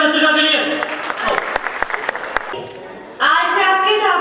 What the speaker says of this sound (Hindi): जोरदार तालियां मैत्रिका के लिए।